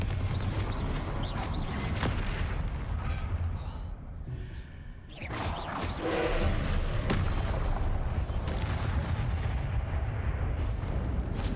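Explosive blasts from the Confringo spell in Hogwarts Legacy, loud and continuous with heavy booming bursts and a brief dip midway, close and dense with no talking.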